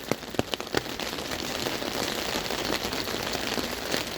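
Heavy, steady rain pours down in a continuous dense hiss, with a few sharp drips and taps near the start, loud and close, with no voices over it, on a windy, stormy day.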